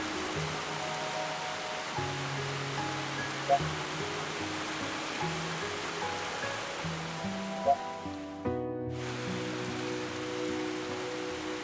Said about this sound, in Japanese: 雨になってよかった。